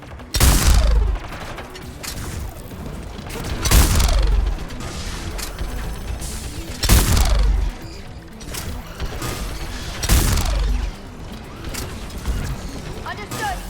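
A turret in the Mass Effect 3 Legendary Edition fires four heavy, loud bursts at roughly three-second intervals, with mechanical clatter and combat noise between them and a voice occasionally speaking.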